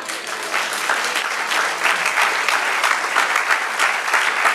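A church congregation claps loudly and steadily through a sermon, a dense, continuous wave of applause with no voices rising above it.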